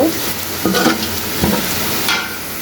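Bottle gourd greens tipped onto fried onions in a pan and stirred: loud, close sizzling with a few scraping stir strokes and soft clatters, continuous throughout with no speech.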